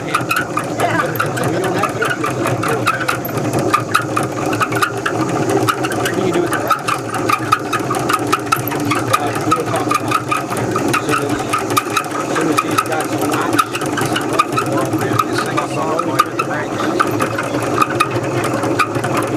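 A honey extractor spinning with an unbalanced load, a rapid rhythmic rattling and whirring that runs steadily throughout, with people talking over it.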